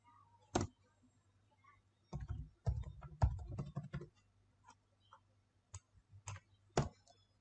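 A password is typed on a computer keyboard into KeePass on Windows: short bursts of quick, close key clicks separated by pauses and scattered single taps, fairly quiet with no speech.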